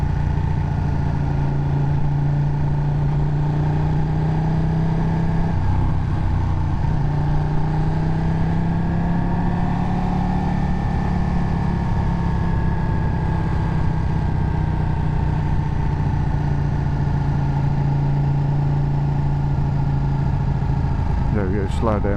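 A Ducati 1299 motorcycle rides along a road with a steady, buzzing engine drone whose pitch drifts slowly with speed, running under a rider talking almost the whole time.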